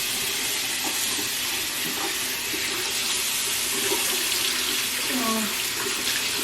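A bathroom tap runs steadily while makeup is rinsed off the face, a constant rushing stream with a few faint splashes and handling noises and no clear talking.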